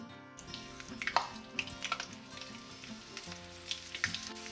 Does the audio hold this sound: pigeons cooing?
no